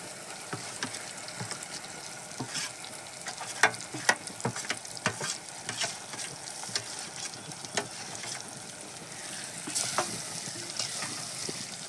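Roasted eggplant mash frying in a pan with chili, a close crackling sizzle broken by frequent sharp clicks and scrapes of stirring.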